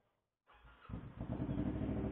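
A big motorcycle engine cranks and catches after a short silence, then settles into a loud, close, rumbling idle, recorded through a motovlog microphone setup.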